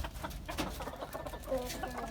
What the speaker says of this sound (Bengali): এখানে রয়েছে দেশি মুরগি আর এরা হচ্ছে যে ডিম পাড়ার পরে কুচো নিয়েছিল